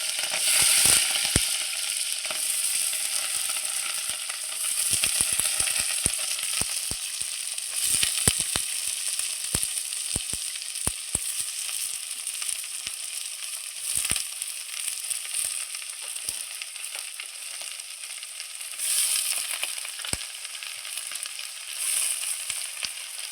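Mustard and cumin seeds frying in hot oil give a bright, steady sizzle with scattered crackles and pops throughout, close and fairly loud, with no talking.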